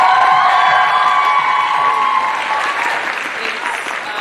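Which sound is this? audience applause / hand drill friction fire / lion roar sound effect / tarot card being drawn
audience applause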